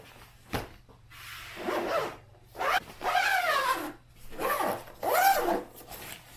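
A zipper pulled open and closed several times in long rasping strokes, close and fairly loud, with short pauses between them.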